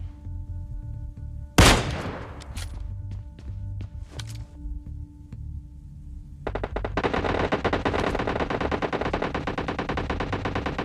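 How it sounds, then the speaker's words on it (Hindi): Gunfire in the mobile shooter PUBG Mobile Lite: a loud single shot early on, scattered distant shots, then sustained rapid automatic fire continuing to the end, with no talking. "एक शॉट दिया लेकिन भाई वो लग नहीं पाया"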